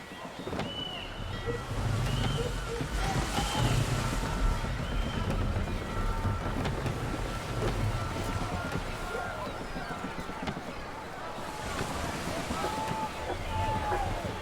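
Sailing ship moving across open water in Assassin's Creed III, with a steady wash of waves and wind, faint creaks and distant crew shouts underneath.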